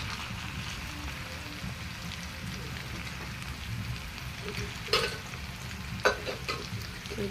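Ground spices, turmeric, chili, cumin and coriander powder, fry and are stirred in oil, giving a low continuous sizzle with scraping stirs and two sharper utensil clatters near the end.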